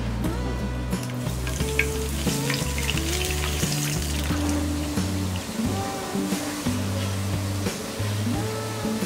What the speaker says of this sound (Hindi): अब हम इसमें डालेंगे ये दूध